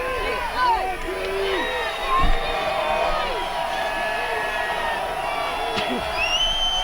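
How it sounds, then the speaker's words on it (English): Crowd at a high school football game between Colfax Falcons and Oakdale Mustangs, November 2007, raising a steady loud roar of voices and whoops calling for defense, with brief louder surges. "So the crowd is calling for defense."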